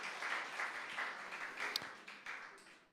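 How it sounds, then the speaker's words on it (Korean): Church congregation applauding, a steady, sustained patter of many hands clapping at moderate distance that gradually fades toward the end. "박수 한번."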